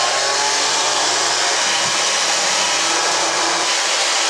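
A grinder roars continuously as it powders dried moringa leaves, producing a loud, steady, even whir that keeps going without a break.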